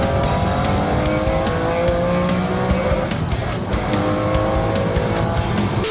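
McLaren F1 supercar screaming at full throttle, its loud, sustained engine wail blended with tire squeal, continuous and close throughout with no talk.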